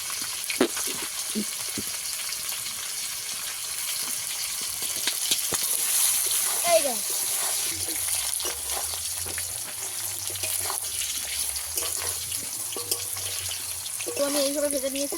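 Lentil and ash gourd bori frying in hot oil: a steady soft sizzle with scattered clinks and stirring taps, near and moderate in level, with a brief tonal squeak late on.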